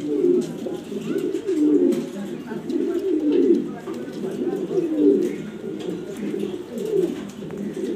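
A pigeon coos repeatedly in low, rolling phrases, close and clear, the calls recurring every second or so.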